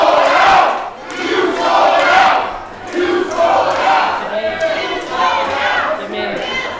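A wrestling crowd at a VFW hall in Savannah jeers Michael Walker, loud surging shouts and chants rising and falling in waves, the mass of voices close and rowdy throughout.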